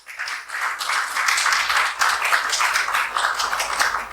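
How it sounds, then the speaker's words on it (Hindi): An audience at an indoor health talk claps together in a brisk, steady round of applause lasting a few seconds, moderately loud and without talk over it. "वेरी गुड, तालियां।"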